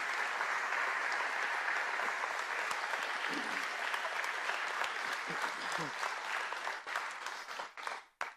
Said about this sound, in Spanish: ¿por qué no le damos un fuerte aplauso al único digno de recibir la gloria, la honra y la gratitud?